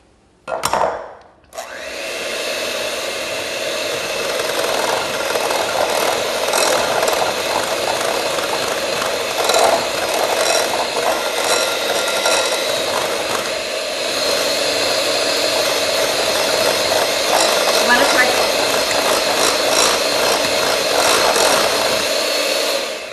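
An electric mixer blends softened cream cheese with milk, starting after a brief bump and then running as a loud, steady whirring drone for the rest of the clip, close up with no talk.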